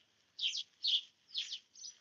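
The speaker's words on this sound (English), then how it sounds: "All those beautiful bird sounds." Four bright chirps from a bird in a garden, evenly spaced about half a second apart, clear and fairly close with a quiet background.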